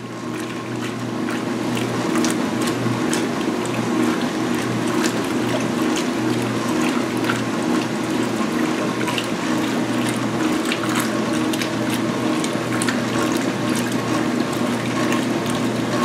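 A 2016 Speed Queen washing machine runs with its tub agitating: a steady motor hum overlaid with rapid repeated mechanical clicking and sloshing water, close and continuous.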